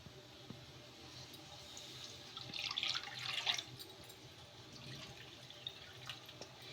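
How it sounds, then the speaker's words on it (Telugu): Water being poured into a kadai, a faint trickling splash that swells for a couple of seconds mid-clip against a quiet kitchen background, with no talking. "ఒక కడాయి అయితే పెట్టేసుకొని అందులోకి కప్పున్నర వాటర్ అయితే వేసుకుందాము."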